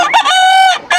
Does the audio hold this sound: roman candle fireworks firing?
no